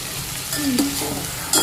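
Potatoes go into hot oil with asafoetida and curry leaves, giving a brief, loud burst of sizzling and stirring up close.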